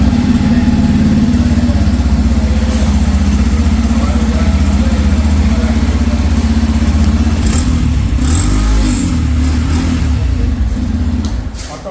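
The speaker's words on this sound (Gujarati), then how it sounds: "જેવું એન્જિન તમે ક્રેન્ક કરશો તો ગાડી સાયલેન્ટલી સ્ટાર્ટ થઈ જશે।" A 2025 Yamaha FZ-S Hybrid motorcycle engine starts quietly and settles into a steady, low idle, loud and close for the whole stretch with no talking.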